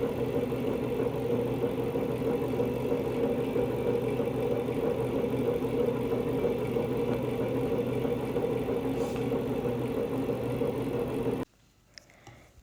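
Motorised spindles on an analog flocculator jar test apparatus stir water samples, giving a steady mechanical hum and drone that runs unbroken and then cuts out abruptly near the end.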